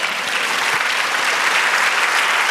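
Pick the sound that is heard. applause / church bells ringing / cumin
applause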